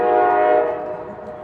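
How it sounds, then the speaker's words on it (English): A train horn sounds in the background near a baseball game, a strong sustained blast that fades toward the end, heard alone. "Train in the background."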